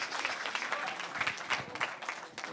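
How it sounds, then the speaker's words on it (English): A room full of people claps for a special guest at a Season for Nonviolence evening at the International Peace Museum, a dense, even wash of applause that holds at moderate volume throughout the short burst. "Can we give one more round of applause to our special guest tonight?"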